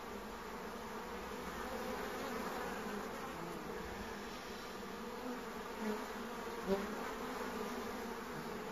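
Honeybees leaving their hive make a steady, continuous buzz that stays fairly soft and even throughout, with a couple of slightly louder passes near the end.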